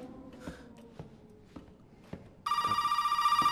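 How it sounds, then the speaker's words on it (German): A telephone rings inside the survival-horror game Resident Evil 7 on PS4 Pro VR. Soft footsteps and faint ambience come first, then a loud, steady electronic ringing starts abruptly and repeats in a fast pulsing pattern to the end. "Welches Telefon ist das?"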